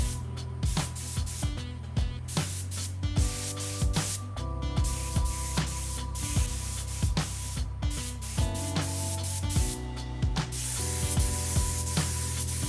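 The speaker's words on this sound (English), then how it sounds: "we take them into the paint booth for a fresh coat" Spray gun hissing steadily as Honda NSX-R brake calipers get a fresh dark gray coat in a paint booth, continuous and fairly close, with rhythmic music playing loudly over it throughout.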